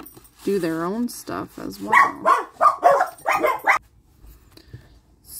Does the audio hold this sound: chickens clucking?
no